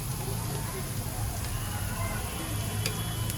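Onion and a spoonful of gram flour fry with garlic in a pan, giving a dense, even hiss that runs the whole time, with a few faint scraping ticks over it.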